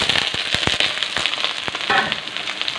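Soybean chunks dropped into hot oil already holding bay leaf, five-spice seeds, onion and chili, crackling and sizzling loudly with sharp pops throughout, close up and with no talking.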